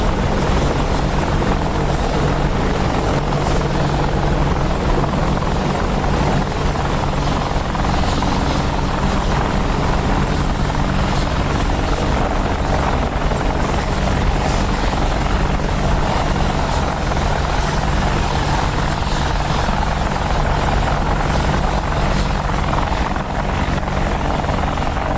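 An Apache helicopter sits idling after landing in the DCS combat flight game, with a loud, steady rotor and turbine roar that holds without a break.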